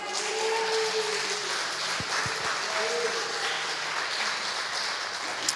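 A church congregation claps in steady, sustained applause filling the room throughout, with faint voices and held tones sounding underneath.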